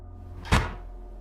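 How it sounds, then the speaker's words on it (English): A refrigerator door opens with a single soft thunk, close and moderately loud, against a low steady background hum in a quiet house. "All of a sudden, I hear the refrigerator door open."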